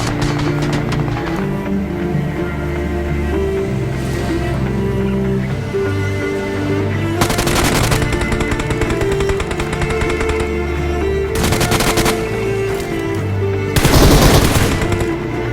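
Rapid automatic gunfire rattles almost continuously in a PUBG Mobile match on the Livik map, with several louder bursts standing out from a steady, dense stream of shots.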